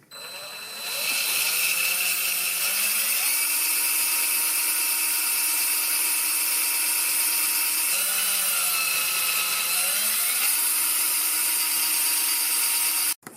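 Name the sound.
power drill drilling holes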